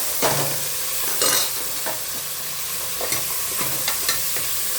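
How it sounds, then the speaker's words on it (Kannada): Onion, minced mutton and fenugreek leaves fry in hot oil for a keema sambar, a loud continuous sizzle with a spoon stirring and scraping the pan in short strokes at close range and no talking. "ಆನಿಯನ್ನು ಮಟನ್ ಜೊತೆಗೆ ಸ್ವಲ್ಪ ಮೆಂತ್ಯ ಸೊಪ್ಪು ಹಾಕೋತೀನಿ. ಇದನ್ನು ಆಯಿಲಲ್ಲಿ ಫ್ರೈ ಮಾಡ್ಕೊಳ್ಳೋಣ ಚೆನ್ನಾಗಿ."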